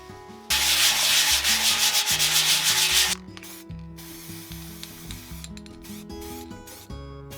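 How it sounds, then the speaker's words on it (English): Wire brushing grease and rust off an old petrol tank from a 70-year-old grass cutter: a loud, steady scrubbing rasp for about three seconds, followed by quieter intermittent scraping and rubbing. "we need to get rid of all the grease on it, and we need to brush off the most of the rust and treat it"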